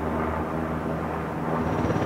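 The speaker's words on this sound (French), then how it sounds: "cet hélicoptère a la capacité de faire des loopings avec son rotor rigide" A rigid-rotor attack helicopter flies a display at the Paris Air Show, its engine and rotor making a steady, broad droning roar at middle distance.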